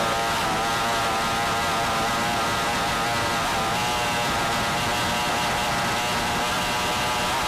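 Offshore racing powerboat engines at the 1997 Compaq Offshore Challenge roar loud and steady, a dense continuous drone that holds without a break and with no voices.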